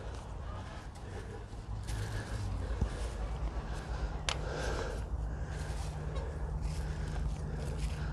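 Franconian geese honking on a farm, mixed with a steady low background rumble and some talking; the calls are loose and irregular, at moderate distance.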